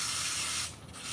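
A short burst of hissy, scratchy rubbing of sandpaper worked back and forth by hand on wood at low speed, steady then briefly easing before resuming.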